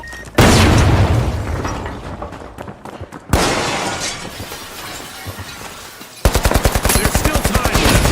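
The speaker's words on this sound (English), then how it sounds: "Frag grenade set." Frag grenade blasts in The Finals, several loud booms with shattering debris and crackling tails, closing with a rapid burst of heavy gunfire.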